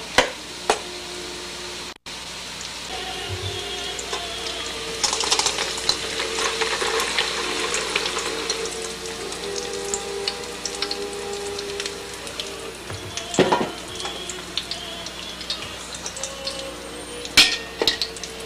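Italian cookies fry in hot oil and are stirred, giving a steady close sizzle broken by a few sharp scrapes and knocks of the utensil, with no talking.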